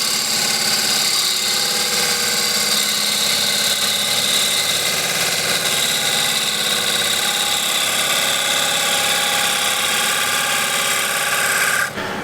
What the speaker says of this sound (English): Do not push the gouge onto the wood.